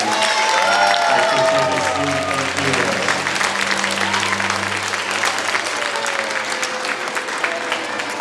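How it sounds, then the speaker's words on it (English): Sustained audience applause fills a school farewell assembly for fifth graders, loud and steady throughout, with a few voices and tonal background sounds beneath the dense clapping. "One more round of applause for our inspiration winners."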